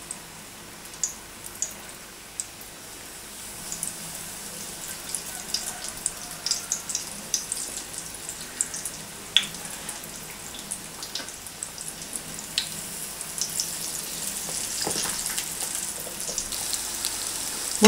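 Soft, steady crackling and sizzling of cherry pies slowly frying in oil over minimal heat, with scattered sharp pops growing a little busier toward the end; no one speaks.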